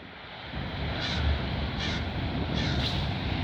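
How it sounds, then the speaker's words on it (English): A crow caws repeatedly near a rail line in Milton, Ontario: several harsh calls spaced about a second apart, standing out over a steady loud rumble of background noise. "It's annoying as the stupid crow won't shut up."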